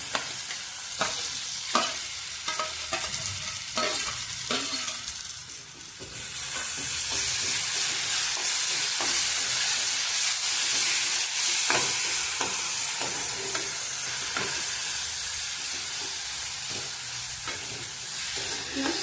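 Roasted eggplant goes into a hot pan for Maharashtrian bharit and is stirred, with repeated spoon scrapes over a sizzle that swells into a loud steady hiss partway through, no talking.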